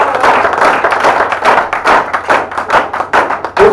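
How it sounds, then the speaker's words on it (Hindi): An audience at a Hindi comedy poetry gathering claps in loud, close bursts, uneven rhythmic hand claps that swell and fade in waves over a few seconds. "एक बार मेरे भौगोलिक ज्ञान पे तालियां बजा दी।"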